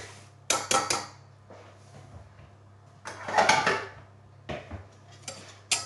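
Sugar poured into lemon tart filling in a bowl, then stirred with a utensil. Several short, close scraping and clinking bursts come in irregular groups over a low steady hum, with no talking.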